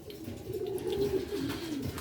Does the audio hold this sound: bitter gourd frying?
no